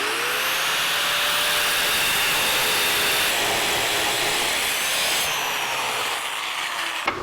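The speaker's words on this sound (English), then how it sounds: "We'll cut a piece off this scrap." A power tool cuts a piece from scrap metal while working on a 1982 Jeep CJ7 spring install, a loud, steady high whine that holds throughout with slight shifts in pitch as it cuts.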